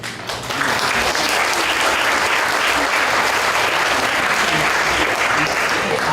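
Conference audience at a regional congress in Kyoto breaking into sustained applause, a loud, even wash of many hands clapping that swells in quickly and holds steady to the end, no talking over it.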